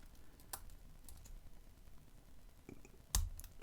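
Faint clicks from a lock pick working the pins of a Draper padlock, sparse tiny ticks over a quiet background, ending in one sharper, louder click.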